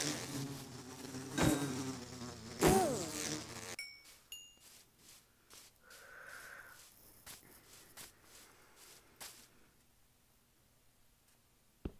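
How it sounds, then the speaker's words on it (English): Small buzzing Minecraft bees flit in and out amid scattered clicks and taps, fairly quiet, with a few sharp hits early on. "The bees, let's swat them out."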